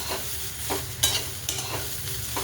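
Cluster beans fry in a pan and are stirred, giving a continuous close sizzle. A few scraping strokes of the spatula recur through the frying, and nobody speaks.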